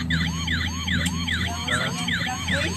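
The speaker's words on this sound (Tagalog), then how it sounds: "Fire truck. Fire truck." A fire truck's wailing siren sweeps up and down in a repeating pattern, loud and close, with a vehicle engine rumbling underneath.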